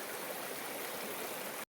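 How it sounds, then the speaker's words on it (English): A stream flows steadily at a knee-deep trail crossing on the Appalachian Trail, a continuous rushing wash that cuts off abruptly at the end. "Water was flowing pretty good there in the spots."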